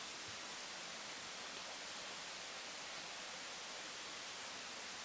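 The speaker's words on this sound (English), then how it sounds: "I think that is just down to the river running below." A river running below a bridge gives a steady, broadband rushing wash of water, distant and even, with no voices over it.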